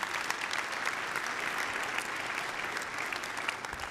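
Audience applause at a church gathering, a dense and steady crowd clapping that holds at an even level from start to finish.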